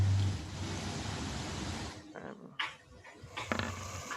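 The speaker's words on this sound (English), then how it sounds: "where the dog sounds are coming from" During a tabletop role-playing game, a dog sound effect plays as a steady, loud rush of growling, grumbling noise, then breaks into a few shorter bursts near the end.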